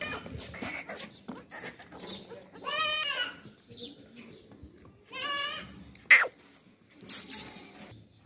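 Milking goats with kids bleat up close in two long, wavering calls a couple of seconds apart, with sharper short bleats and quiet rustling around them.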